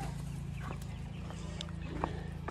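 Chickens, including buff hens, cluck continuously inside a farm coop where turkeys are also kept, with scattered soft calls layered over a steady low murmur, close by and moderately loud.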